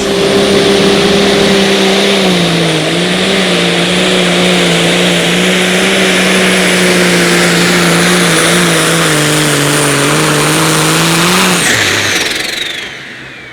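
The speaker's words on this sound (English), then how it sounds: "this one again is a component tractor, all built from scratch" A loud engine of a scratch-built component pulling tractor in the 10,200 Pro Stock class roars steadily at high revs for about twelve seconds, its pitch wavering slightly, then cuts off abruptly and fades.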